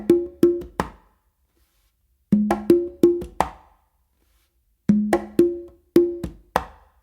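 A funky accented pattern played by hand on congas, repeated three times in clean groups of four to five crisp strokes of tones and close slaps, with brief pauses between groups, close and unaccompanied.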